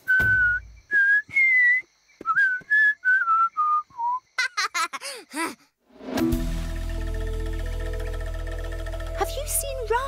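A cartoon lion whistles a string of short, clear, melodic notes that step down in pitch, with pauses between phrases, followed by bright sound effects and a burst of background music.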